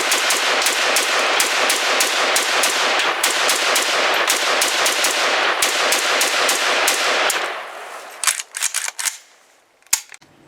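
An SG553 carbine rifle fires a long rapid string of shots, fast and evenly spaced, then a few separate bursts and single shots, loud with no talking.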